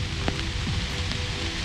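Rain falling onto a canopy while out catfishing on a river channel, a steady close hiss and patter with scattered drops, no voices.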